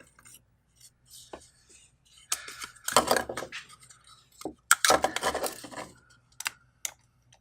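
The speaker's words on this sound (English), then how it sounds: "I think I'm just gonna try a knife on that" A knife trims a 3D-printed plastic hose adapter for a Harbor Freight sander, giving scattered sharp scraping and clicking cuts in short bursts, close-up, between quiet pauses.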